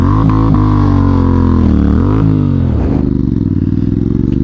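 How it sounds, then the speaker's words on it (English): A motorcycle engine revs hard and steady at close range with a wet rear wheel after riding through floodwater, the pitch rising and dipping in a failed burnout attempt with some clatter. "Motovlogger tries to do a burnout but forgot what buttons to press on the controller bars and failed"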